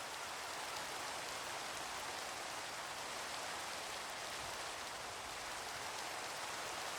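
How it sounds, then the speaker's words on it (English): Steady rain ambience from the Minecraft video game hisses evenly and softly for the whole stretch, a constant patter with no breaks or voices. "it's making the rain sound because I'm right on the edge of the ice, but it's obviously snowing"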